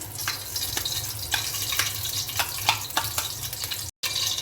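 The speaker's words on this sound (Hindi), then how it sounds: "घी के गर्म होने के बाद इसमें अनियन ऐड कर देती हूँ।" Onions frying in hot ghee in a pan for palak gosht give a steady, close sizzle with scattered stirring clicks, then a brief drop to silence near the end.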